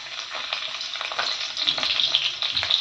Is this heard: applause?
no